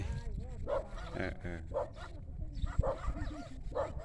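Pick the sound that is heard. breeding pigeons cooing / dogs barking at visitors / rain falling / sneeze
dogs barking at visitors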